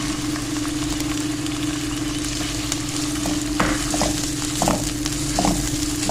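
Sliced onions frying in a pan for mooli palak saag give a steady, loud sizzle with occasional stirring scrapes and crackles, and no voices.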